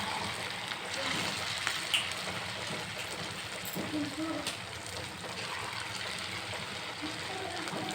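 Punugulu batter dropped into hot oil fries with a steady, dense sizzle and bubbling hiss that runs the whole time at moderate level, with small pops and bursts.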